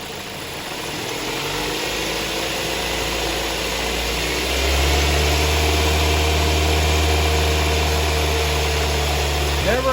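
A car engine held at about 2,000 RPM runs at a steady, elevated idle, rising slightly in pitch and loudness partway through, then holding a constant hum.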